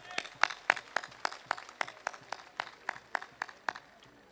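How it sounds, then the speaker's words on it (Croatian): Audience applause at the opening of a village festival gathering in Brestovac, a steady rhythmic clapping of many hands at an even pace, moderately distant and fairly soft, with no speech over it. "ja predlažem da u okviru otvaranja Sabine odjekne jedan aplauz za sve učesnike manifestacije Susreti sela"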